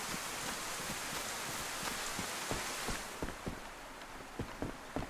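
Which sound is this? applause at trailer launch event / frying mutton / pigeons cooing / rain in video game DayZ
rain in video game DayZ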